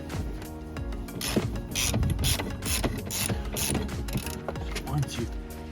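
Ratchet clicking while loosening the rocker cover cap on a BMW engine during a gasket replacement, a close, steady run of rapid mechanical clicks and metallic taps with no talk.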